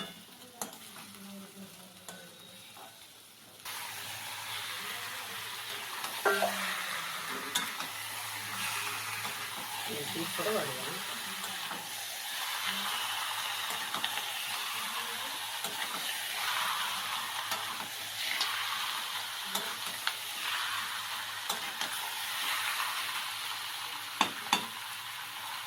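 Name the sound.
husband stirring and frying meat in a pan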